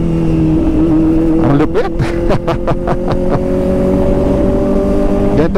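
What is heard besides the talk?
Kawasaki ZX-4RR motorcycle engine revving with quick-shifter autoblip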